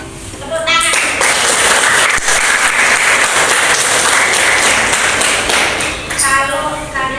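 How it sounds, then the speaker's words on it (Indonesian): A classroom of pupils claps together after being asked about the elements of poetry. The burst of applause starts suddenly, stays loud and dense for several seconds, then fades, with voices audible at the edges. "Ya. Tepuk tangan."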